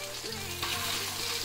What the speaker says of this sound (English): there's a nice little sizzle